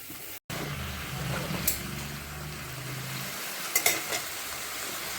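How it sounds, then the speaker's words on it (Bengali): Greens fry with garlic in a pan, with a low steady sizzle after a brief cutout, a muffled rumble underneath and a couple of clinks from stirring near the end. "এখন এটা ভালো করে নাড়াচাড়া দিয়ে ঢাকা দিয়ে রেখে দেবো।"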